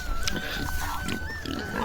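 A large pig grunts repeatedly in a village, close and fairly loud, with short rough grunts over steady farmyard background noise.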